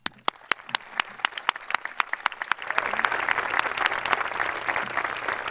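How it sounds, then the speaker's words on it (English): Graduation audience at a Sprague High School ceremony applauding: scattered individual claps first, then swelling into full, sustained clapping from a large crowd in a hall. "I ask the graduates to join me in a round of applause for the staff, faculty, and families of Sprague High School."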